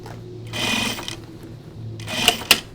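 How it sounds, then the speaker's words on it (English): Sewing machine stitching through heavy denim jeans, running in two short bursts with a brief pause between and a couple of sharp clicks at the end, close and loud. "Oops, I accidentally backtacked"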